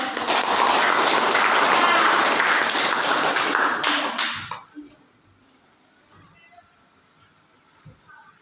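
An audience claps together in a loud, dense burst of applause for about four seconds, then it thins out and fades into quiet room sound with a few stray taps.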